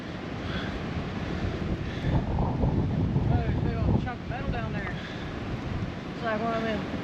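Wind buffets the microphone outdoors at Ohio's ancient earthworks, a low, rumbling roar that rises and falls under people talking nearby.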